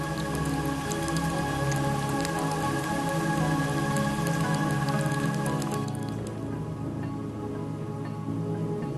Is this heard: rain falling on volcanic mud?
yes